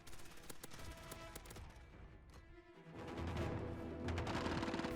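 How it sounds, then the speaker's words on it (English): An M4 assault rifle fires in Call of Duty, a steady stream of automatic shots layered over busy game sound and music, growing louder and denser toward the end. "here's the M4 Noah"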